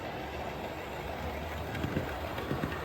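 A model railway locomotive rolls slowly into a siding, a steady low mechanical rumble with soft rhythmic wheel clicks toward the end, close and alone without voices.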